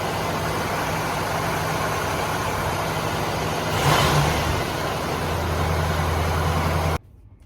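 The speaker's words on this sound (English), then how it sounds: "This is how a motor is supposed to sound." An old vintage camper van engine runs steadily and close by with a deep, even hum, a brief swell of revving near the middle, then cuts off abruptly just before the end.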